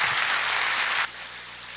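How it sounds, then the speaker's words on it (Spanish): Applause from a conference audience in an auditorium, a dense, even patter of many hands that cuts off abruptly after about a second, leaving quiet room noise. "le despedimos también con un fuerte aplauso"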